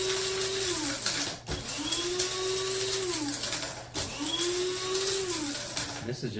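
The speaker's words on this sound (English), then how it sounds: "just a little coffee grinder, this coffee grinder. They don't cost very much on eBay or Amazon, and you can use them to grind up all these herbs" A small electric coffee grinder whirs through dried herbs in three close, loud bursts, each motor whine rising and settling before a brief stop.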